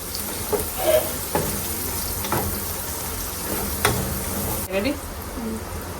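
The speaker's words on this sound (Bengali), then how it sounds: "সুন্দর করে পেঁয়াজটাকে লাল লাল করে ভেজে দিব" Sliced onion fries in a pan until browned, giving a steady sizzle broken by occasional clinks and scrapes of stirring. Faint voices sit in the background.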